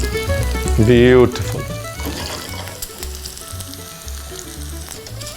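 Curry leaves hit hot oil with a loud, sharp sizzle that settles into steady, close crackling frying, made while cooking a restaurant-style spicy Gobi 65 roll; a voice speaks briefly over it.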